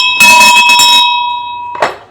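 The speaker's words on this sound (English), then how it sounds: "First of all, the bell's got to ring." A loud, close bell rings once in a sharp ringing burst for about a second, its tone hanging on and fading, and then a brief second strike comes near the end.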